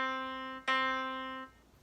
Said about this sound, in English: Unison is when the exact same note is played twice